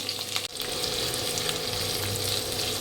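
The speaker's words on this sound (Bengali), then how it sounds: "সবজিটা এবার একটু ভালো করে ফ্রাই করে নেব" Vegetables frying in a pan with whole garam masala spices and ginger, giving a steady, close, continuous sizzle with one brief dip near the start and no talking.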